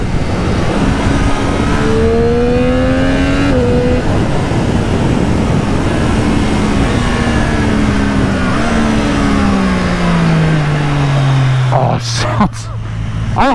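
A 2024 Triumph Street Triple R motorcycle roars loudly and continuously from the rider's position, its engine note rising and falling through gear changes, with rushing wind throughout.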